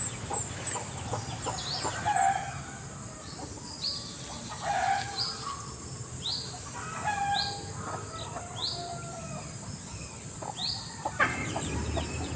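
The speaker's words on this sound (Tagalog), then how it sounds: "asawa nung panabong na manok ko. Meron siyang 3 sisiw" A hen with three chicks clucks and gives short calls near the microphone, with small chick chirps scattered through, over a steady outdoor background with no talking.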